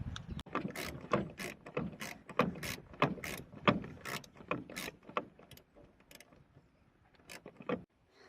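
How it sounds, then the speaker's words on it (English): A hand ratchet clicks in quick bursts while turning a bolt on a tractor topper mower, a close, crisp series of ticks at a fairly steady rhythm that thins out and stops near the end. "we'll try out Dad's new ratchet and hopefully it works"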